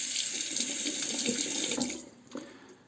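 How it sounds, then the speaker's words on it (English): Water from a tap runs steadily as a Muhle R89 safety razor is rinsed beneath it, a close, continuous splashing hiss that cuts off near the end. "I'm just rinsing it underneath the tap."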